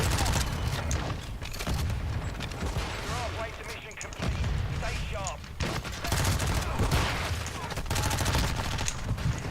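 Rapid gunfire crackles in a Warzone 2 match, automatic bursts and single shots packed closely together at high volume, with a player talking over the shooting.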